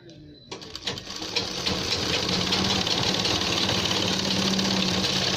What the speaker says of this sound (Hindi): उसी निशान पे हम सिलाई लगाएंगे।